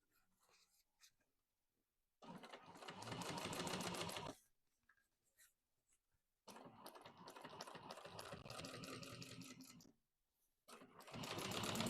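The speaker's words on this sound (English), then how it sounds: "then top stitch through the lining side" A sewing machine top stitches through a bag lining in three long bursts of steady rapid stitching, separated by short pauses, close and loud.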